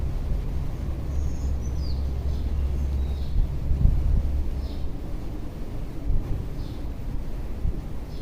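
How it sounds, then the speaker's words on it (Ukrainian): Steady outdoor wind buffeting a microphone, a loud rumbling low roar that gusts slightly throughout, with faint bird chirps in the background. "мені в лице дує вітер"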